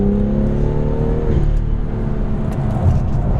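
A BMW M2 fitted with M Performance Parts drives on a track, its engine a loud, close, steady drone that holds one pitch and then drops as the car eases off.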